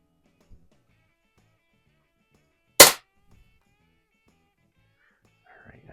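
A Daisy model 62 underlever pellet pistol fires a single sharp, loud crack up close, standing alone against near silence with a few faint rustles around it.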